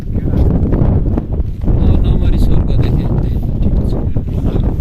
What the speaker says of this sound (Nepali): हावा चाहिँ डर लाग्ने है, कतै कतै त उडाउला जस्तो गर्ने